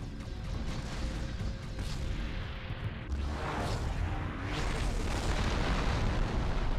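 Mortar explosion in an Xbox demo video game, heard as a continuous loud rumbling blast with a sharp burst near the middle, followed by more sustained booming and crackle.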